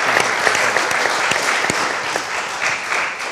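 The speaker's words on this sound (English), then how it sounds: "Can we give all of our pitches a round of applause?" A conference audience at a corporate inclusive-growth pitch event gives the pitches a round of applause, a dense crowd clapping steadily with a few sharper individual claps standing out, fairly near and sustained.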